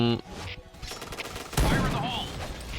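Bursts of rapid gunfire from a G11 rifle crackle amid first-person shooter game sound effects, with a voice speaking briefly over the din.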